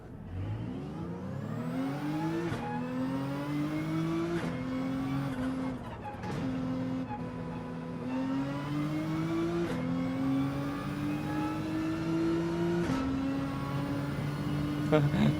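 A Nissan GT-R in the Gran Turismo 7 racing game accelerates hard through repeated upshifts, its engine note climbing steadily then dropping at each gear change, loud and continuous with faint tire squeal.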